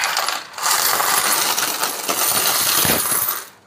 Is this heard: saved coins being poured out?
yes